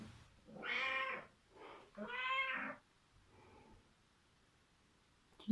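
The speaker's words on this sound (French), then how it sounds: "Tu dis miaou?" A pet cat meows close up, two long clear meows with a short softer one between them and a faint trailing mew, in a quiet room.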